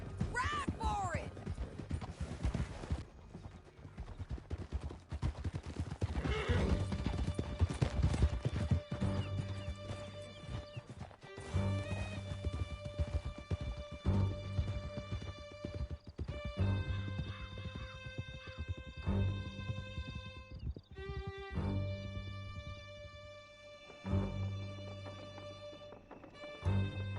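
Horse hooves clip-clopping at a gallop during a ride in Red Dead Redemption II, a steady rhythmic pounding under game music and occasional whinnies, with voices talking over it at times.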